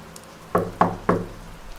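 Three short raps on a door in steady rhythm, close and crisp, each a single knock over a faint low background hum with no voices.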